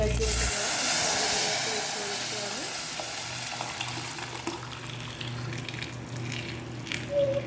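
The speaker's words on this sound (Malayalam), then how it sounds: "കുറച്ച് കറിവേപ്പിലയും കൂടെ ചേർത്ത് കൊടുക്കുന്നുണ്ട് ഇനിയിപ്പോൾ നമ്മൾ റെഡിയാക്കി വെച്ചിട്ടുള്ള കറി ഇതിലേക്ക് ഒഴിച്ചു കൊടുക്കാം" Ash gourd curry poured into a hot tempering of oil and curry leaves, giving a loud hissing sizzle that slowly settles into a softer bubbling frying sound, heard close up.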